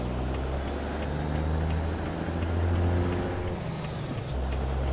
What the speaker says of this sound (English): Just going off the sound of the truck here.